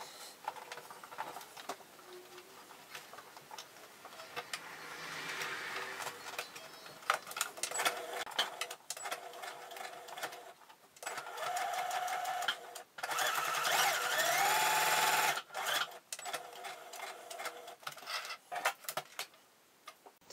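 Sewing machine stitching a bow onto a shirt, its motor running in bursts of steady rapid stitching with short pauses between runs, fairly quiet and with no talk.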